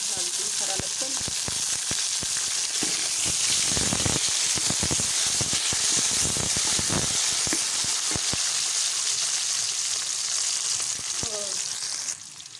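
Green garlic hits browned onions in a hot pan, setting off a loud, continuous sizzle and hiss with repeated scraping and clattering from stirring.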